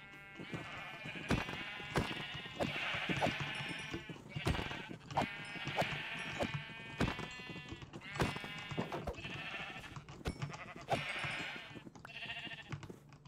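Repeated video-game sheep bleats, several overlapping calls in a steady stream over a constant low background hum, fairly close.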